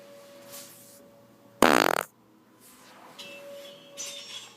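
A loud, brassy fart bursts out once for about half a second midway, standing out sharply against quiet room noise and a faint steady hum.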